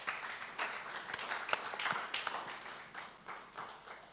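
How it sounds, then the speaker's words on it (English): Audience applause at a panel event marking 90 years of a symphony, a fairly quiet steady patter of many hands clapping for about four seconds with a few sharper individual claps standing out. "She deserves a round of applause again."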